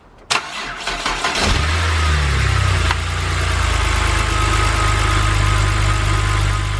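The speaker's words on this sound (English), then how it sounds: "because the engine fired up with no issues" An engine starts up after a rocker cover gasket replacement: a brief cranking whir catches into a loud, steady idle that holds evenly and close for several seconds.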